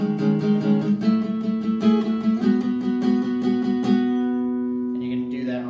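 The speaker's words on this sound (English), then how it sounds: "So the open strum sounds like this." An electric guitar strums open strings in steady repeated strokes from a chorus, then lets the final chord ring out and fade.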